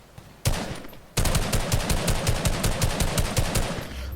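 Rapid bursts of automatic gunfire in the Fortnite video game, a short volley followed by a longer sustained string of fast, evenly spaced shots, loud and close with no talking.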